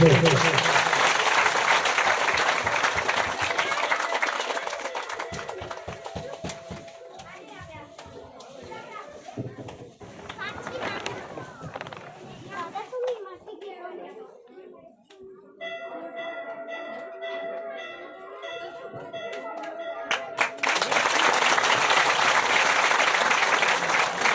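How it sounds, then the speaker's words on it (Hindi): Loud crowd applause at a Devi Bhagavata katha, a religious recitation gathering, swelling at the start and returning at the end, with bell tones, children's chatter and voices in the quieter middle stretch. "तालियां इनके लिए।"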